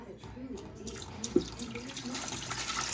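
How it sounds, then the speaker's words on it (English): Filtered tap water pours into the reservoir of a Typhur nugget ice maker, a steady close trickle with a small clunk midway, with a voice faintly present. "we're going to fill it completely to the max level this time to start making our ice"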